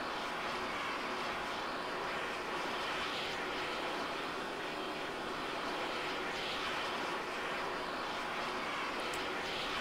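A fighter jet engine in the Arma 3 video game roars as a steady, broad, even rush throughout a landing, with no voices.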